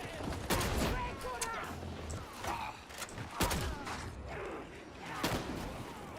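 Shotgun fire in the video game Darktide, repeated heavy blasts amid a dense, noisy battle din with mechanical clatter, fairly loud throughout.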